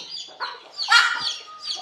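Country hens in a poultry shed give short, close clucks and squawks in a brief burst, with no talking.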